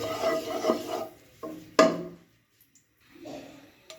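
A spoon scrapes through carrot halwa with a little ghee in a pan, giving close, intermittent strokes and one sharp clink against the pan, with quiet gaps between.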